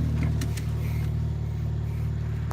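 A Honda Type R car idling with a steady, close engine rumble, a brief rise in revs near the start, then settling to an even hum with no talk.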